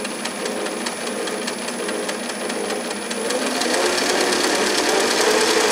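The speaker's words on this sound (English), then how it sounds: "This machine has a VFD, so it's so nice to be able to adjust the speed like that." A South Bend lathe with a VFD runs in forward at close range, a steady mechanical drone with a fast regular ticking pulse that grows slightly louder toward the end.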